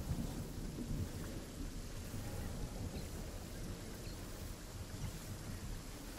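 A storm rumbles in a Fortnite match, a continuous low roar of thunder-like rumble and rain-like hiss filling the whole stretch at moderate, steady level with no talk.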